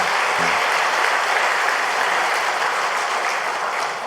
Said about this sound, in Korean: 다시 한번 박수로 격려합시다.